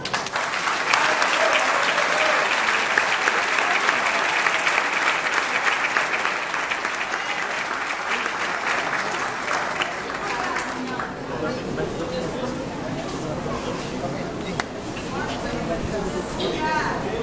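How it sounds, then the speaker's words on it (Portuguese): A church congregation applauding during a communion service, a loud, sustained wash of many hands clapping close by that runs for over ten seconds, then gives way to voices and murmuring. "Vamos aplaudir o Senhor."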